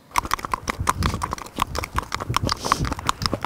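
Horse hooves clip-clopping on a paved road, a steady run of sharp, fairly close hoof strikes with no talking.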